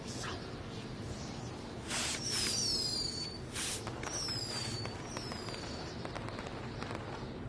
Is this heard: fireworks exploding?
yes